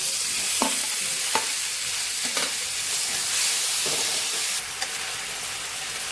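Boiled watermelon rind and potato hit a pan of fried spices with a dense, steady hiss, with a few sharp scrapes of a spatula stirring the mixture at close range.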